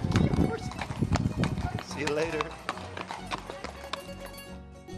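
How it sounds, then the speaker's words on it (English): Horse hooves clip-clop in close, uneven beats as a rider moves through jungle on an island trip, with a whinny partway through and people talking over the hoofbeats. "Let's hope I can remain in control without my horse galloping off."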